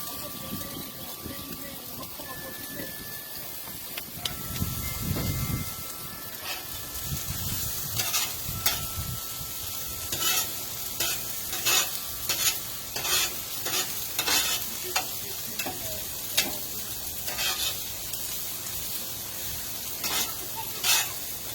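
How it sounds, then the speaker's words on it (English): Mushrooms and onions fry in oil on a Blackstone griddle, a steady sizzle under repeated scraping and stirring strokes from a spatula, with some brief talk early on. "Throw a little oil in there. Mix it up a little bit."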